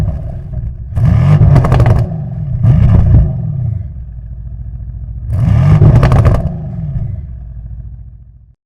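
Twin-turbo engine of a fourth-generation Bentley Continental GT Speed plug-in hybrid, heard without synthetic sound, giving three loud revs rising and falling, with a quieter idle between bursts and a fade at the end.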